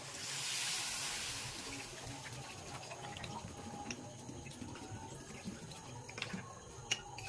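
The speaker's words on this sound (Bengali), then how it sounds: "এবার জল দিয়ে দেবো" Water pours into a pot of village-style desi chicken curry, a soft broadband rush loudest in the first second, then settling into faint steady trickling and light patter with a few small clicks.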